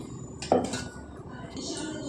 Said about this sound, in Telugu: దీన్ని వేసేసుకుందాం ఇప్పుడు మిక్సీ జార్లోకి.